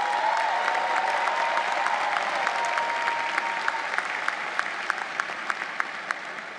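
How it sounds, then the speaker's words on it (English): Audience applause for graduates at the Cambridge College 2018 commencement ceremony: a steady, sustained wash of many hands clapping, fairly loud and close, with no talking, thinning slightly toward the end. "Let's give them a round of applause."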